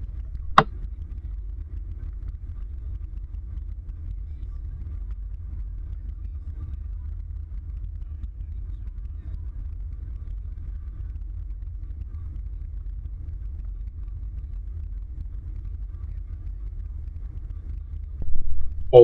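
Steady low road rumble heard from inside a car driving along, continuous and fairly loud throughout, with a couple of brief clicks at the very start and end and no talking.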